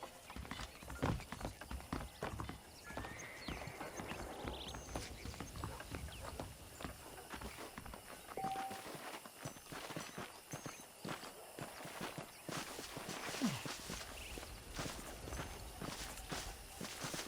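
Horse hooves clip-clop steadily at a walking pace in the video game Red Dead Redemption, a continuous close rhythm of hoof falls on a dirt path with faint ambient background.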